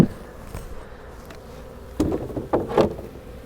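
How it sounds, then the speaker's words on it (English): Honey bees buzz around a hive entrance holding a pollen patty after a hard freeze, a faint steady drone with a few brief louder passes near the end. "See quite a few bees right there."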